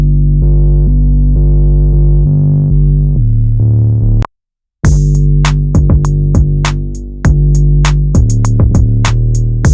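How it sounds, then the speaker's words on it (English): A deep, sustained 808 synth bass plays low notes, drops out for a moment, then returns under a punchy drum pattern with sharp, regular hits. "now I'm gonna layer in an 808"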